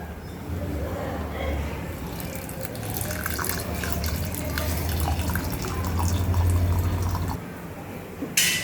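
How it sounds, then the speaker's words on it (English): Water poured steadily into a cooking pot for Gujarati masala khichdi, nine cups in all, a continuous rushing splash that stops abruptly near the end, with faint talk in the background. "that is, we'll put 9 cups of water."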